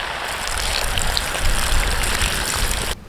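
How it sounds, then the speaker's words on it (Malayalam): Water is poured into a pan of masala-coated beef heart for a Kerala-style beef heart fry. It makes a steady, close splashing trickle that runs for about three seconds and then stops abruptly. "ഇതിലോട്ട് ഇനി കുറച്ച് വെള്ളം കൂടി ഒഴിച്ച് നമുക്ക് വേവിക്കാൻ വെക്കാം"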